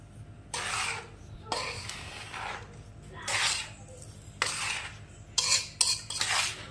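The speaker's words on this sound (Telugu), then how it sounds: "రవ్వ పంచదార పొడి మొత్తం మిక్స్ చేసేసుకుంటున్నామండి" Semolina and powdered sugar being mixed by hand in a bowl, heard as several bursts of dry, gritty scraping and rustling separated by short pauses, close and soft, with no talking.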